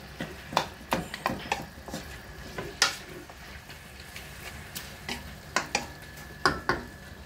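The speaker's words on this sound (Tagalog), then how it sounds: "Haluin lang natin, pakuluin natin." Chicken pochero being stirred in a pot with black pepper and salt, a spoon scraping and knocking against the metal in irregular clicks over a low bubbling simmer, close and fairly quiet, no talking.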